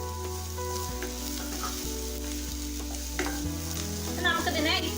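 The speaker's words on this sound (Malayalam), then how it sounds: "ഇനി നമുക്കിതിലേക്ക് ഇഞ്ചി വെളുത്തുള്ളി ചതച്ചത് ഇട്ട് കൊടുക്കാം." Onion, crushed ginger, garlic and green chilli sizzle softly in a pan while being sautéed, a low steady fry with occasional stirring clatter, under a persistent hum and without speech.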